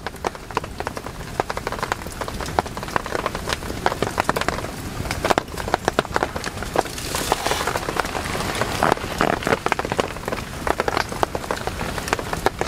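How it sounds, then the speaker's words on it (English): Light misty rain falling on a tarp shelter over a campfire in the outdoors, a continuous close patter of fine drops with scattered louder ticks throughout. "It's just light rain, just that misty rain."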